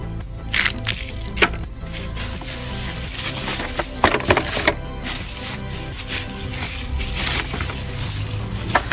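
Small screws rattle and clatter out of a package close by, with scattered light metallic clinks and a few sharper knocks over a busy rustling background.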